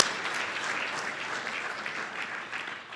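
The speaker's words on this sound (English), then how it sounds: "but Lisa, we thank you, and I think we still give Lisa a big clap." Conference attendees give a big round of applause for an absent helper, a steady, moderately loud wash of many hands clapping that fades slightly toward the end, with no voices over it.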